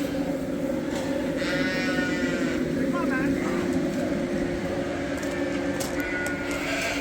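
Lambs bleat now and then while being moved on a sheep farm, set against a constant low engine drone, with people talking throughout.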